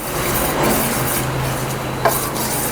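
Spoon steadily stirring jaggery powder into thick ragi batter in a bowl, giving a continuous close, wet scraping and rubbing with one brief sharper scrape near the end; no one talks.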